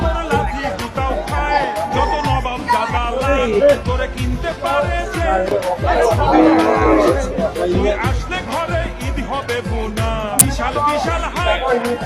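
Cattle at Suyabil Churkhan village livestock market in Bangladesh, with repeated close lowing and mooing over a dense, constant murmur of crowd chatter and people talking throughout.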